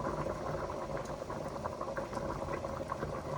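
A pot of sweet potatoes at a steady rolling boil, bubbling and pattering continuously with no talk, as dumpling dough goes in.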